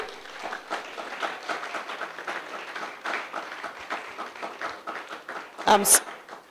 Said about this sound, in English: Give him a round of applause for me.